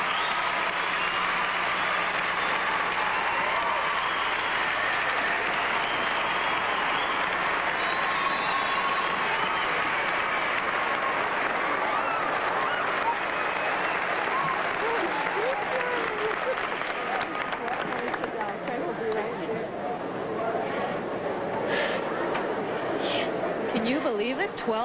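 A large arena crowd at a 1990 Skate Canada figure skating competition applauds steadily and loudly for the whole stretch, a dense wash of clapping with some crowd noise mixed in.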